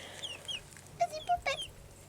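Backyard hens cluck in winter with a few short, soft calls close by, rising in a small cluster midway and then fading against a quiet background.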